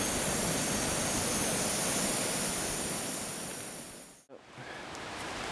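A loud, steady roaring hiss of a Jetboil camping gas stove close by at a backcountry camp, cutting off abruptly near the end and leaving quieter background.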